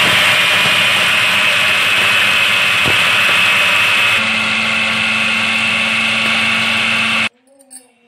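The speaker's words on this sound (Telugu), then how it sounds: "Mixie Codd ఇచ్చుకుందాము." A mixer grinder blends grapes with sugar in its jar, a loud, steady whirring motor roar that runs for about seven seconds and then cuts off abruptly.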